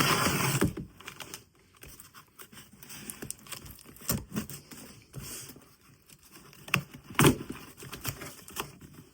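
A Kershaw PT-1 keychain tool slices open cardboard and plastic packaging, with scattered close scraping, tearing and tapping sounds, short irregular bursts between quiet gaps and no talking.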